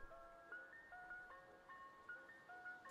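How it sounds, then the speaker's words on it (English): A tinkling ice cream truck melody plays in the Siren Head video game, a steady chain of bright, bell-like notes drifting along at moderate volume with no voices over it. "Oh, is that an ice cream truck?"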